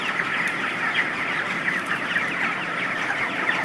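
A flock of poultry clucks continuously at close to medium distance on a hot afternoon, many overlapping calls forming a dense, steady chatter with no talking.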